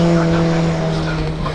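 Race cars push through a flying lap at Cadwell Park during a time attack session, a loud, close engine drone holding a steady pitch with a rough tire-scrubbing edge, over a brief moment.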